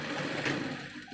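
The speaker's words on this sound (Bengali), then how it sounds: "এই পেস্টিংয়ের সাইড দিয়ে সেলাই করে নিয়ে নিলাম" A sewing machine stitches fabric along a pasted edge with a steady, fairly quiet mechanical whir that runs through the whole moment without talk.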